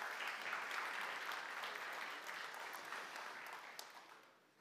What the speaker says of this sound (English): A big and very warm applause, both virtually but also physically, for Bilal.